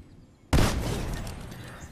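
A grenade gun blast in a PS4 shooting game: one sudden loud explosive burst that rings out and slowly decays, with no voices.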